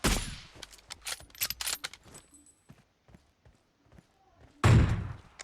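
Several sharp gunshots from the mobile battle-royale game PUBG Mobile crack in quick succession, some bursts close together and others spaced apart, with a loud heavy blast near the end and speech in between.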